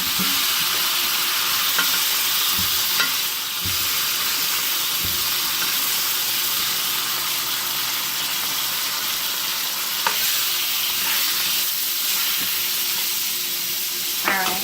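A T-bone steak fries in a pan with a steady, loud sizzle and hiss throughout, broken by a few soft clinks and scrapes of a utensil; no one speaks.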